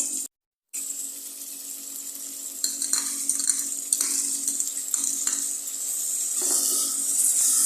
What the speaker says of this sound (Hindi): अब अदरक लहसुन के साथ हम गोश्त की अच्छी तरह भुनाई करेंगे ताकि इसका फ्लेवर गोश्त में आ जाए।